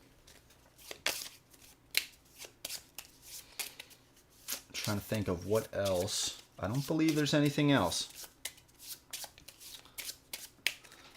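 Encounter cards for the Dark Souls board game being shuffled by hand, with repeated riffles and papery rustling near and clear, and someone talking briefly before and after.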